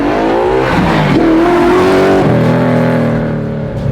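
A widebody pro touring 1965 Mustang revs hard and accelerates, its engine note climbing in loud, close harmonic sweeps that step up through gear changes before settling into a steady, loud drone.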